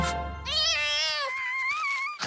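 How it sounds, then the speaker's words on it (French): A cartoon cat gives one drawn-out, wavering meow, loud and close, its pitch rising and then sliding down before it cuts off. "c'est pas un chat, c'est un pot de colle!"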